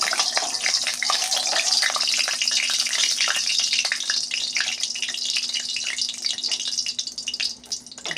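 Lentil fritters (bora) frying in a generous amount of hot oil in a kadai, a steady, busy sizzle and crackle running throughout at close range, easing slightly near the end.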